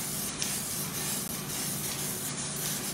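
Aerosol spray can hissing colour onto cake toppers at close range. The spray runs as a loud, steady hiss through the whole moment, with only a tiny break partway through.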